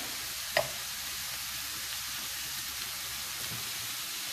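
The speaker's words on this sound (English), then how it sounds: "I'm going to warm this up and I'm going to take my butter and just melt it in there" Butter melting in a warm pan, a soft steady sizzle with faint crackle and one brief clink near the start, close and fairly quiet, no talking.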